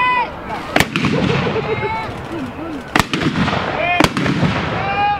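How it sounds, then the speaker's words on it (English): Medieval hand guns touched off with a match fire at an outdoor demonstration at Weald & Downland, giving three sharp, loud bangs spaced irregularly a second or two apart, with crowd chatter and voices continuing underneath and between shots. "so we'll have one more volley going off."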